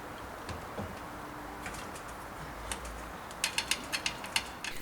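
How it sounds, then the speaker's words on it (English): A ratchet works a steering arm nut loose on a Trabant 601 front axle: a run of quick, sharp clicks in the last second and a half, with a few scattered mechanical taps before, fairly close and with no talk. "Ratchets really make your life easier, don't they?"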